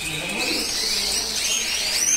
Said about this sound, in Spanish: Mira aquí unos poquitos de pájaros